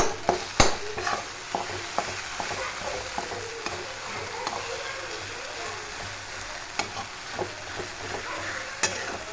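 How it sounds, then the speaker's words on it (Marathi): Cooked, softened brinjal for bharit is pressed and mashed in a hot pan, giving irregular thuds and scrapes from the utensil over a low sizzle. A couple of sharper knocks stand out near the start and near the end. "आता अगदी सोप्या पद्धतीने ठेचल्या जात आहे आपले वांगे"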